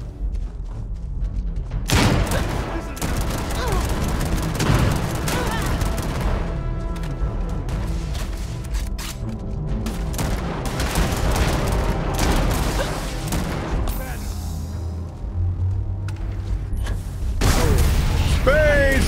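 Sustained gunfire rattles through a firefight in the video game Starfield: dense bursts of shots and booming impacts, loud and continuous, with a voice talking over the action at times.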